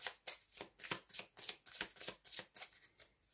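A deck of cards being shuffled, with a quick run of rhythmic riffling bursts repeating about every third of a second, close and crisp with no talking.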